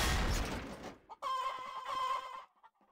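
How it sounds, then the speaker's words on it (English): Chickens clucking and crowing in the Garry's Mod Trouble in Terrorist Town video game, a burst of fowl calls after a loud noisy blast, fairly loud and close, no talk over them. "I hear chickens."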